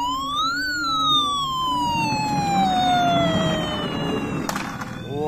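A wailing siren sweeps up then slowly glides down in pitch, loud and close, with a faint clatter near the end; sounds like a toy fire truck.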